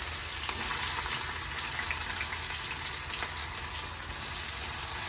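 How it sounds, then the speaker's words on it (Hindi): Chopped onions frying in leftover oil, cooked for a vegetable yakhni pulao, giving a steady broadband sizzle and crackle that runs unbroken at an even level, close by and with no voices. "बाकी का बचा हुआ ऑयल, इसमें हमने हमारे जो ऑनियन है वो करने हैं फ्राई"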